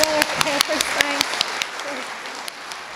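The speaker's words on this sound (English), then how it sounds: "A big clap for all our helpers." An audience claps together at a Christmas gathering, a dense burst of applause that gradually thins out, with no voices over it.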